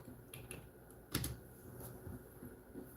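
Typing on a computer keyboard, a faint, sparse run of soft key clicks with one louder tap near the middle, set against low room hum.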